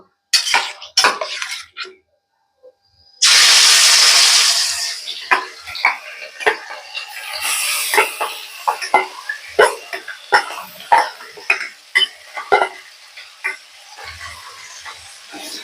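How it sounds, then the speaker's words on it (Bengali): Small mourala fish drop into hot oil seasoned with nigella seeds, setting off a sudden loud sizzle that fades into a quieter, ongoing fry punctuated by sharp utensil clatters and taps against the pan. "তেলটা গরম হয়ে গেছে এখন আমি ছোট মাছগুলো দিয়ে দেব"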